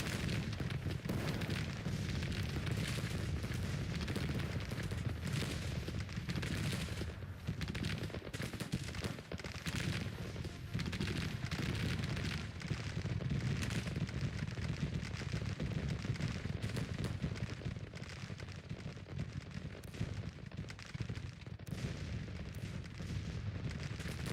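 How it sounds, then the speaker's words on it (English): Artillery fire in a video game battle: continuous distant booms and gunfire thud through a dense, steady battle din, faint overall, with repeated sharp bursts throughout. "It's the artillery what's doing all the work here."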